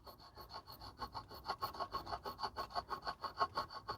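A whetstone is rubbed back and forth over corrosion on a BMW alloy wheel rim, a close, even rasping scrape repeated in a quick steady rhythm of about five strokes a second, with no voices.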